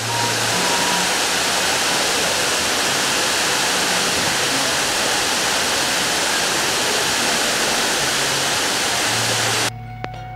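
A steady roaring rush of falling water from Curug Cijalu waterfall in Subang, loud and unbroken throughout, with a faint low hum beneath.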